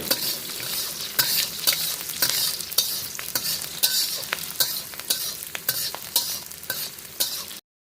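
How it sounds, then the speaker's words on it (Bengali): Onion sautéing in a pan, with a continuous sizzle broken by repeated rhythmic scrapes of a spatula stirring and pressing the pieces, close and loud, with no voices. "পেঁয়াজটা দিয়ে ভালো করে কষিয়ে নেব।"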